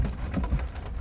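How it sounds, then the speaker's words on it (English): Rain falls outdoors on a cloudy, foggy spring day in British Columbia's Okanagan region, a dense, loud patter with a low rumble filling the whole moment. "this rain is killing me"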